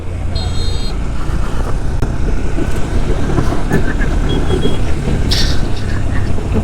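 A Hornet 2.0 motorcycle on the move gives a loud, continuous engine drone mixed with rushing road and wind noise, with no gaps throughout.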